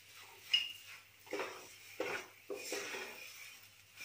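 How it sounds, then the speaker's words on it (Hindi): Flour halwa with sugar stirred in a metal pan, with quiet scraping strokes and a few light clinks of the spoon in a slow, repeated rhythm, close but soft. "अब इसे भी हम चलाते रहेंगे एक जगह।"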